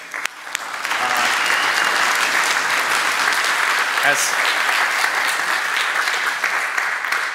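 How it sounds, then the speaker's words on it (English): A large audience applauds at the closing and hackathon award ceremony of a blockchain event in Zurich, a full, sustained roar of clapping that swells within the first second and holds steady and loud throughout. "please, one last round of applause for this occasion."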